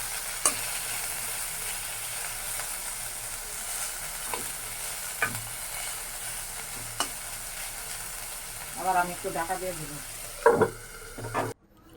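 Chicken meat fries in a pan, a soft steady sizzle with occasional utensil taps, then a brief burst of voices and clattering near the end before cutting off.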